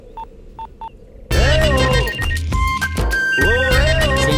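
Three short touch-tone beeps sound as a telephone number is dialed, followed by voices talking loudly over background music.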